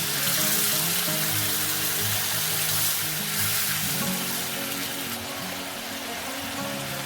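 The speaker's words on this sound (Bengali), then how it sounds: "এবার আমি এর মধ্যে দিয়ে দিলাম জল।" Water hitting hot spice paste (masala) in a pan, giving a steady, loud hiss and sizzle that lasts throughout and slowly softens, with no talking.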